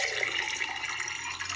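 Pouring 11.5 pH Kangen water over produce to rinse off pesticides, heard as a steady close trickle and splash of running water lasting a moment and unbroken by speech.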